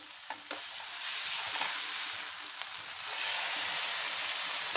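A steady, close sizzle of chicken grilling hot, with faint crackles and a brief clatter near the start, no talking.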